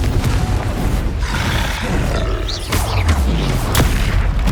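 Confringo blasting curse going off in Hogwarts Legacy, a deep booming roar with rumbling low-end blasts and crackling bursts layered over continuous game noise.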